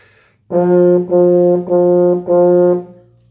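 Four sustained wind-instrument notes at one pitch, each cleanly separated by a brief tongued break, played close and steady.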